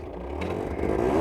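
A 2017 Derby Senda Extreme 50cc motorbike with its stock exhaust starts up: a short, close engine buzz that builds and rises in pitch as it catches, with no voices.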